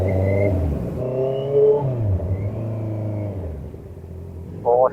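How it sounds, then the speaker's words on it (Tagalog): Cars at a highway tollgate produce a loud, steady engine rumble and whir, with one vehicle's revving rising and falling over the traffic drone and a sharp pitch jump right at the end. "Dito lang sa tollgate, maraming sasakyan."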